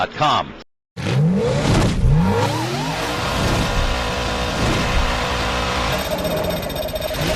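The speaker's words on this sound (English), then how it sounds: "2 cars, including Mark Martin, sliding through spun us down the back." Stock cars race and spin on an oval track with a loud, sustained engine roar and whining pitch sweeps. A brief dropout occurs near the start, then the roar continues steadily.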